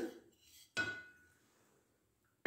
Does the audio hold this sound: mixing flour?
yes